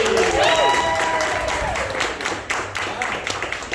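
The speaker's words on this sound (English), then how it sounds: "Give it up for Jake and Miley." Audience at an improv comedy show claps and cheers for arriving guests, a full round of applause over a fading musical sting, growing into a dense, lively patter.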